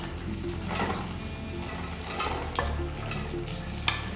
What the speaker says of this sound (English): We're going to stir these onions